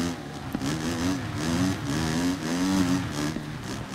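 A motorcycle engine revs and strains steadily in the motocross game MXGP3, heard from the handlebar view with manual gearbox, its pitch wavering as the rear wheel slips, with a synthetic, game-like tone throughout.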